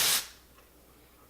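Texturizing hair spray from a shaken can, giving one short, close aerosol hiss that fades after about a quarter second into quiet room tone.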